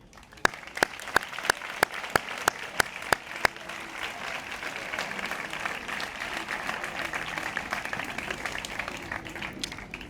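Graduation-ceremony audience at Col·legi Santa Maria de Vila-real breaks into applause: a few sharp, separate claps ring out first, then the crowd swells into dense, sustained clapping that holds steady to the end.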